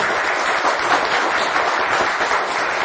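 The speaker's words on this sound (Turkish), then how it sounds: "bir alkış daha rica edelim efendim." Studio audience applause on the Turkish word game show Kelime Oyunu, a steady, dense wash of clapping that holds at an even level for a few seconds.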